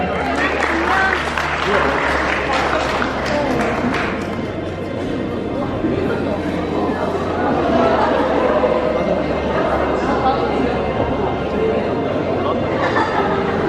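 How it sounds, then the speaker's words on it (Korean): Wedding guests applauding in a hall during a ceremony with children delivering roses, steady clapping mixed with chatter and a host's voice over a low hum. "다시 한번 큰 박수 부탁드리겠습니다"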